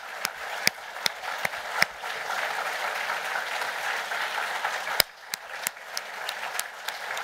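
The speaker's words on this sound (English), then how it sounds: "please join me in one more round of applause, thanking all of our finalists" An audience at a book awards evening applauds in a sustained wash of clapping with sharp individual claps standing out, moderately distant, with a brief dip partway before the applause carries on.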